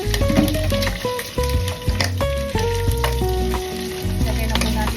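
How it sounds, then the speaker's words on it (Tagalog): Garlic dropped into a hot frying pan for sautéed bottle gourd with pork and dried shrimp, a loud, close, steady sizzle with stirring over a tonal background. "Ihulog na po natin yung garlic."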